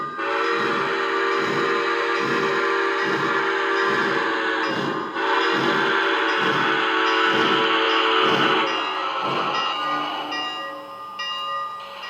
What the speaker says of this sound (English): the Legacy Southern Crescent PS4 Pacific number 1393